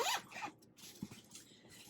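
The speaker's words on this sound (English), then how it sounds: "It does zip." A zipper on a fabric project bag with a formed metal frame is pulled in quick, close rasping strokes, with a brief pause and some handling noise.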